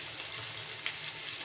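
Onions frying in oil with green chillies for Hyderabadi chicken masala produce a brief, soft, steady sizzle close by, with no voices.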